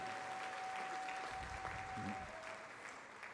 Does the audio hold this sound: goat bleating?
no